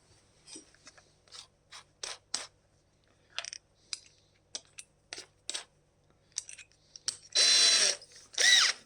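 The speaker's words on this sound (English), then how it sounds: "Start it out with the drill." A power drill whirs in a series of short bursts while building a Telecaster-style guitar, then runs longer and louder near the end, close by with quiet pauses between.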